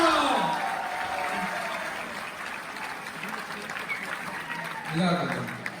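Applause rises from the crowd at a college welcome party in a hall, clapping swelling loudly at first and then continuing under a speaker's voice.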